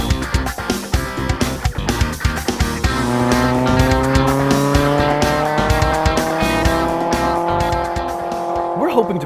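2016 Mazda MX-5 Cup race car lapping a track, engine revving hard through the gears with rising and falling pitch, close and loud, with brief tire noise.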